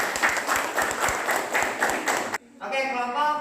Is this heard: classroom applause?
yes